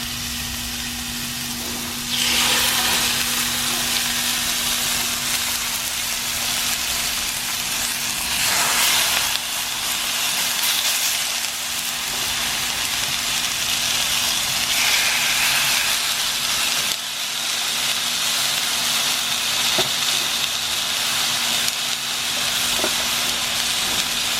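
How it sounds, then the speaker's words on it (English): Steak sears in a preheated cast iron pan, giving a steady, loud broadband sizzle that runs almost unbroken for about twenty seconds, with a low constant hum beneath it and no talking. "We're gonna start cooking up our pieces of steak."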